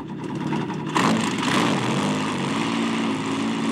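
A cartoon helicopter's spinning propellers make a loud, steady mechanical whirring drone that swells slightly after a second and holds continuously, with no talking.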